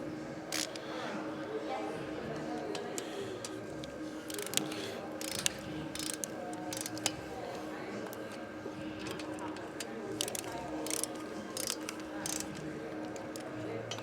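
A wrench ratchets quickly while bolts on a Stage IV 131 Screamin' Eagle Harley-Davidson engine are snugged down to about 10 foot-pounds, giving bursts of close, clicking pawl sounds over a quiet workshop background.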